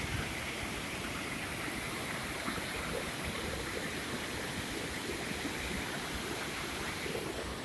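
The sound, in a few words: rushing mountain river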